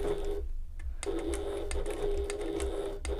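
A sewing machine stitches a fabric bag in short, rapid runs of mechanical whirring, broken by brief pauses and small clicks. It sounds close and fairly loud, with no talking.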